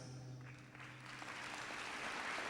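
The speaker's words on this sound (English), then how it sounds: "Seniors, give your classmates some love with some applause" Sustained applause for graduating seniors at a high school commencement ceremony, a steady wash of clapping that builds slightly over a few seconds, with no clear voices over it.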